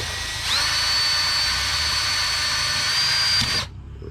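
A steady high-pitched power drill whines continuously for about three seconds boring into a VW TDI engine intake, then cuts off abruptly, close by and loud.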